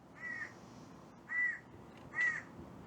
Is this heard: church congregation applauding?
no